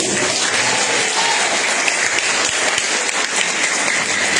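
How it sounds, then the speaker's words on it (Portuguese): A church congregation gathered for a women's congress claps joyfully, a dense, continuous wash of many hands sustained and loud throughout, with faint voices mixed in. "com as palmas bem alegres para Jesus"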